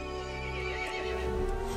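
An iron horse from the video game Resident Evil Village whinnies loudly in one sustained neigh, with game music and ambience beneath it.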